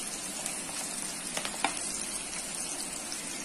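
Onions and garlic cloves fry in a pan with a dense, steady sizzle close up and a couple of brief clicks partway through.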